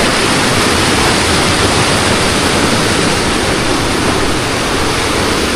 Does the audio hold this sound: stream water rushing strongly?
yes